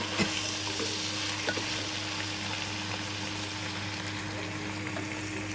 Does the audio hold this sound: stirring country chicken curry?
yes